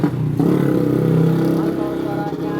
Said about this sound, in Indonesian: Nah itu motor gua yang Vario ya.